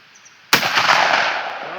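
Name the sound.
Impala Plus air rifle single shot at 70 metres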